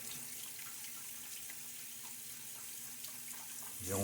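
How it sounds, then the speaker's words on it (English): A running tap flows softly and steadily as a shaving brush is rinsed under it, with a brief louder splash right at the end. "make sure you get your brush nice and well rinsed"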